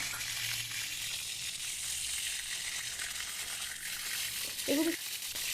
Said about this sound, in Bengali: তাই সাবধানে একটু দূরে দাঁড়িয়েই এগুলো তেলের ভিতর দিয়ে দিতে হবে।